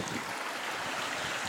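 Water flowing down a small channel on a walk from Littleborough to Walsden: a soft, continuous rushing wash at moderate distance, steady with no talk.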